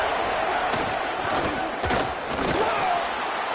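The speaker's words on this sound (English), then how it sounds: "Here comes this home crowd as the defense tries to get off the field on 3rd down" A home crowd at a college football game roars as the defense tries to get off the field on third down, a loud, steady wall of cheering and yelling throughout.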